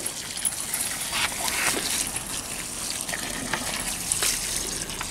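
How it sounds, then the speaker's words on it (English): Water poured from a container onto the roots of a newly planted tree set in a freshly dug hole in a garden, a steady splashing gush with a dog moving about close by. "Water the root."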